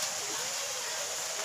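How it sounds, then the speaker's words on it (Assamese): Rain pours down as a storm approaches, a dense, even hiss of falling water that holds steady throughout with no distinct drops. "এয়া বৰষুণ আহি গল"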